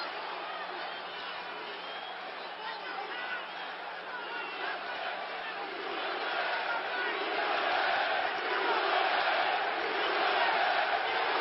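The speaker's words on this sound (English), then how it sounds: "Now the crowd's going to react more to Love's punches than to Baranchyk's punches." Boxing arena crowd at a live fight, a loud, steady roar of cheers and chatter that swells further midway, with a commentator talking over it throughout.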